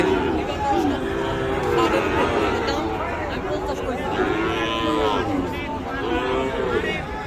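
Sahiwal cows with calves mooing at a rural livestock market in Dinajpur, repeated low bellowing calls close by over a constant crowd chatter and talk.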